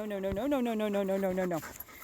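A dog whimpers and whines up close in a long, wavering, high-pitched cry that rises and falls before tailing off into quieter breathy sounds.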